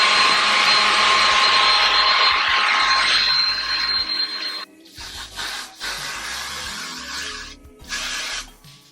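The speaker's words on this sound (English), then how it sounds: "We are going to take our blow dryer and just blow dry all that" A handheld blow dryer blasts steady, loud airflow over hair sprayed with styling product during a quick weave install, then cuts out at intervals and restarts in shorter bursts near the mic.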